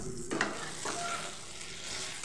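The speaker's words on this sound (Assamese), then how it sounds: "আকৌ মই অলপ 2-3 মিনিটমান আকৌ ভাজি ল'ম।" Steady frying sizzle of fish curry masala with brinjal in a pan, a few scraping stirs near the start, continuous and close, no voices.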